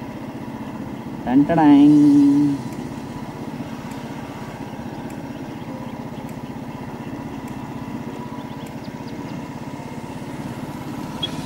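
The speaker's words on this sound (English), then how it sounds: "So I'm driving without a clutch." A motorcycle engine runs steadily at a low idle-like drone while being ridden without a clutch cable, with a brief louder surge near the start and a voice speaking over it.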